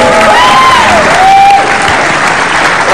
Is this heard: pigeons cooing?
no